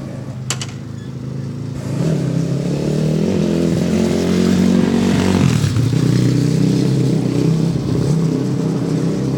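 A hot air balloon's gas burner fires over Sawston, Cambridge. After a short quiet start it becomes a loud, steady, rumbling roar that continues without a break to the end.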